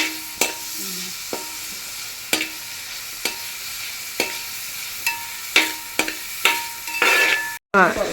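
Clams frying in oil, a constant sizzle close by broken by sharp regular clinks and scrapes of a spatula against the pan, about one stroke per second, growing busier toward the end before a brief cut.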